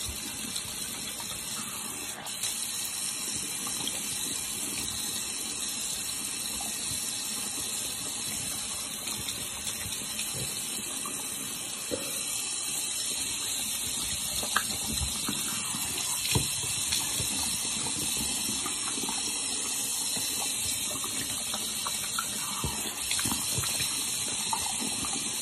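Water runs continuously from a tap during face washing, a steady rushing flow with faint splashes and no pauses, close and without talking.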